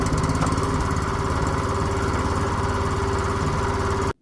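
Classen TR-20K dethatcher engine running right after a pull start, a loud steady close-up putter with even throbbing rhythm that cuts off abruptly at the end.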